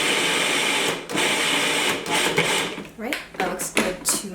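Food processor ricing vegetables: a steady, loud whirring grind that runs almost continuously, broken by short pauses and bursts of chopping toward the end.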